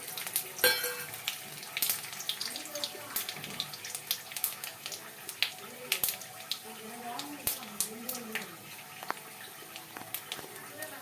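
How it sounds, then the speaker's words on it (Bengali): Panch phoron, bay leaf and dried red chili frying in hot oil give a light, crackling sizzle with scattered sharp pops, heard beneath a person talking throughout. "5 ফোড়ন, তেজপাতা আর শুকনো লঙ্কা, এগুলোকে আমি একসাথে সব তেলের উপরে"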